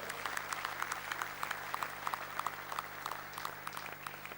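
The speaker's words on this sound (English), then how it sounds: "I want all of you to give yourself a tremendous round of applause" A conference crowd at an IT summit gives a sustained round of applause, many hands clapping together at moderate distance, with crisp individual claps ticking through the steady wash and a faint electrical hum underneath.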